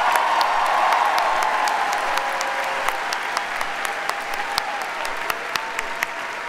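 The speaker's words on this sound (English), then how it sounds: "Let's give him a hearty round of applause." Audience at a university freshman convocation applauding, a dense, sustained round of clapping from a large crowd that thins slightly toward the end, with a few sharper individual claps standing out.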